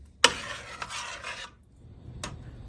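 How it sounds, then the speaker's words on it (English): A utensil scrapes and stirs melting butter in a pot, a sharp clink followed by a rasping swirl, then quiet and a second brief scrape. "just an occasional stir is all that's really necessary"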